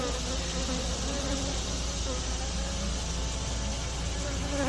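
Honeybees buzz steadily around an established hive in a bee yard in fall, a dense, continuous hum close by with no voices.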